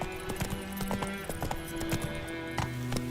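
In The Witcher 3, the horse Roach trots with brisk, repeated clip-clop hoofbeats alongside other hooves and game sounds across a short stretch, clear and close.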